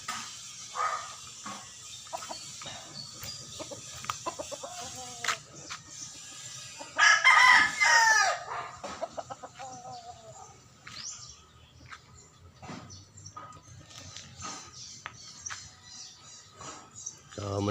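Chickens on a small farm cluck and chatter around the mic, with a rooster crowing loudly midway, while someone speaks over the birds now and then.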